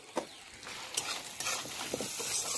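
Bitter gourd with salt and turmeric being stirred in a frying pan, a few distinct scraping clinks over a faint, steady sizzle of oil, close and fairly quiet, with no voices.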